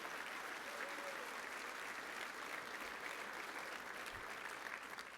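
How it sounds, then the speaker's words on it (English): At an awards ceremony, a crowd gives the judges a sustained round of applause, heard as an even, dense wash of many hands clapping at a fairly low level, steady throughout with no voices over it. "So give them a round of applause for taking time out of their day to help us get here."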